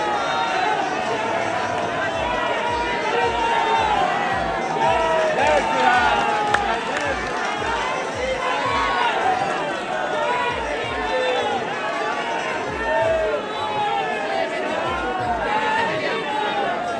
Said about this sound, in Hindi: दर्शन के लिए लाइन लगे, देखो कितना भीड़ है